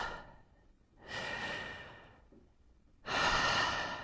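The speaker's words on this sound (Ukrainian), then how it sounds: "Вдих, видих. Вдих. Давайте викладатись наповну. Вдих, видих." Deep, forceful breaths in the Wim Hof breathing technique: two long, loud rushing inhalations or exhalations separated by a quieter pause, heard close up with no talking.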